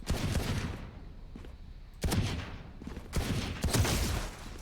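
Bursts of rapid automatic gunfire from the tactical shooter Valorant come in three loud clusters separated by brief near-silent pauses.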